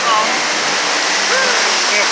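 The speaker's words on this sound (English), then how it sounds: "Waterfall." Rushing waterfall on an indoor river boat ride at a Rainforest Cafe in Galveston, Texas, a steady broadband wash of falling water that fills the clip, with faint chirps and voices from the attraction layered on top.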